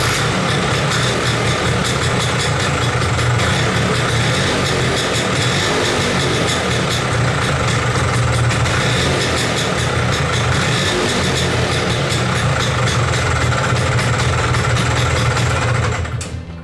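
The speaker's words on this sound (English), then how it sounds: "run the engine in the neutral gear for a few seconds" A Vespa PX scooter engine idles in neutral after a gearbox oil change, a steady loud buzzing two-stroke putter running continuously up close and alone, cutting off at the very end.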